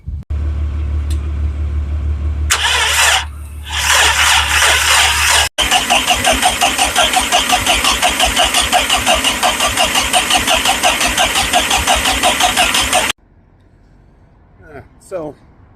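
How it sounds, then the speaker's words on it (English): Audi TT MK1 8N 180 bhp engine cranking on jump-start power but failing to fire, a fast rhythmic churning of the starter motor lasting several seconds, close and loud, with a brief speaking voice afterward. "So the engine does turn over,"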